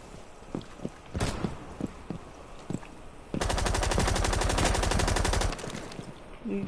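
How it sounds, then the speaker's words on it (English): Gunfire in Rainbow Six Siege: a few scattered single shots, then a sustained, loud automatic burst lasting about two seconds before fading back to quieter ambience. "Who just tried to shoot me?"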